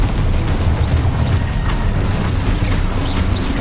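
Spell blasts and explosions from the Hogwarts Legacy video game pile into a dense, continuous rumble of booms and bursts, loud and close throughout.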